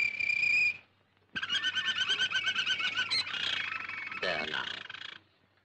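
A bird sings in bright trilling phrases, a short burst then a longer run of rapid warbling notes, fairly close with a faint hum beneath.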